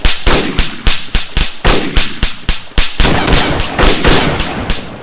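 Fireworks going off in the video game DayZ: a loud, rapid string of sharp cracking bangs, close together like a barrage of firecrackers, continuing without a pause for the whole stretch.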